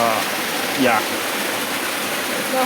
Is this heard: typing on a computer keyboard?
no